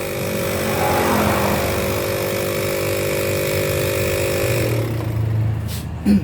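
A compressor under repair, running with no compression, hums steadily with a tonal drone for about five seconds, then shuts off and leaves a low rumble and a brief knock at the end.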